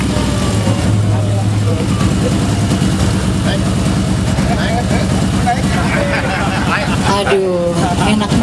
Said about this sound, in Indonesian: Aduh, enak banget nih bunyi mesin ini, halus banget.